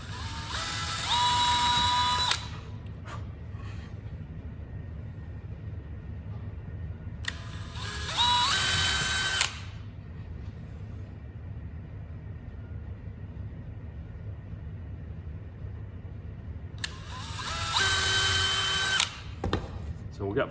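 A power drill bores holes in wood for a planter build, sounding in three loud bursts of about two seconds each, separated by long stretches of quieter shop background.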